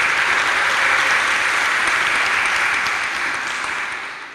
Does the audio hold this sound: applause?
yes